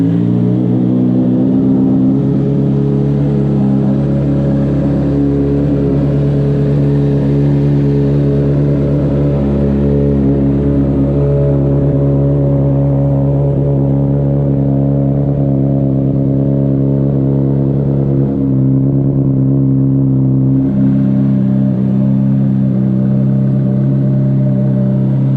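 A Honda CBR 600RR sportbike engine runs steadily at a loud, close idle with a strong low harmonic drone, just after being fired up following a long period of sitting unused.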